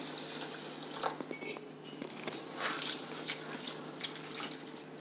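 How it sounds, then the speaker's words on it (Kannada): Flattened rice (poha) being washed in water in a bowl, with close, soft splashing, swishing and dripping that rise and fall over a few seconds, no talk. "ಅವಲಕ್ಕಿನ ಮೊದಲಿಗೆ 1-2 ಸಲ ತೊಳೆದ್ಬಿಟ್ಟು ನೆನೆಸಿಡೋಣ"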